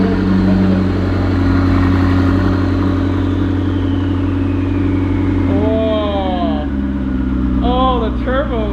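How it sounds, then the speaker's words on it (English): A McLaren 650S turbo engine fitted with a Kline Innovations Inconel exhaust drones loudly and steadily close by, a deep continuous rumble that holds throughout with slight wavering near the end. "Oh, the turbos sound so good."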